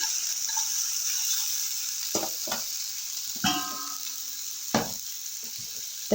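Chicken pieces sizzle steadily in a frying pan for a homemade stew, a bright continuous hiss broken by a few scrapes and clinks of a spatula stirring against the pan.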